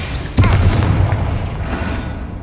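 A Confringo blasting spell explodes in the Hogwarts Legacy video game, one sharp, loud boom followed by a rumbling, fading tail with crackling debris.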